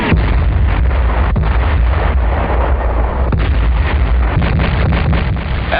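Artillery fire on Okinawa in 1945, a steady barrage of booming blasts and rumbling concussions over constant wind-like noise, loud and close throughout with no talk.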